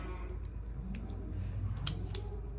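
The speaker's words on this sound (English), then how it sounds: "we take the semen cutter and put it in here" A semen straw cutter snips a thawed semen straw during cattle breeding, giving a couple of small, sharp clicks close by over a steady low background hum.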